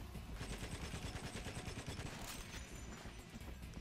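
Rapid bursts of gunfire in GoldenEye: Rogue Agent crackle continuously, dense and overlapping, like sustained automatic fire over a rumbling background.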